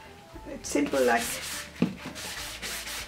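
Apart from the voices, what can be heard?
sanding glossy surface with sanding block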